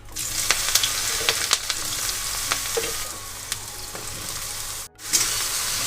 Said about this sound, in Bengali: এবার আমি এখানে বেগুনগুলো দিয়ে ভেজে নেব।